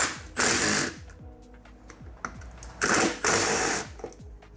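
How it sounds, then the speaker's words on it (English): A small impact wrench rattles in two loud bursts, loosening Loctite-coated bolts on a 2006-2007 GSXR 600/750 triple tree, with quieter ratcheting clicks between the bursts and no talk. "I'm gonna be using my smaller impact to get these out."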